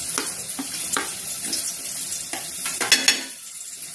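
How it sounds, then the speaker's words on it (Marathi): Grated coconut roasts in a little oil in a pan, giving a soft continuous sizzle. Scraping stirs and clinks of a spoon against the pan break in at irregular intervals. "थोडं भाजून घेते जरा किसलेलं खोबरं"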